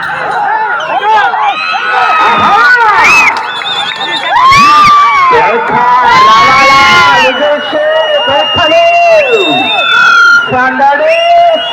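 A crowd cheers and shouts loudly at a bullock pulling competition, many overlapping excited voices and whistles rising and falling continuously, close and energetic throughout.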